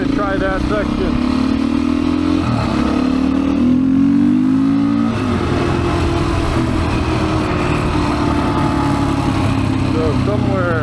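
A Royal Enfield Himalayan motorcycle engine drones loud and close while riding, its pitch rising and falling with throttle changes and gear shifts.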